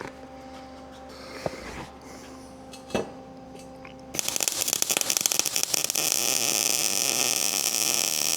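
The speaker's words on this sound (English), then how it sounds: "crank the heat up, get some pretty decent welds." Steel is welded for a homemade cultipacker at a high heat setting. A couple of sharp clanks come first, then a loud, continuous crackling sizzle of the arc that runs steadily to the end.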